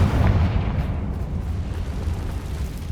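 A Confringo spell explosion in the Hogwarts Legacy video game, with a loud deep boom that rumbles and fades over a few seconds.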